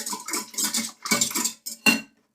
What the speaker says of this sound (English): Mix everything together very well again.